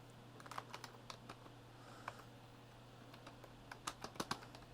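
Quiet, irregular clicks of a computer keyboard being typed on sound against a low steady hum, ending in a quicker flurry of keystrokes, with no voices.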